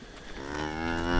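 A single cow on a homestead lets out a long, loud, steady moo that swells slightly toward the end, close and alone.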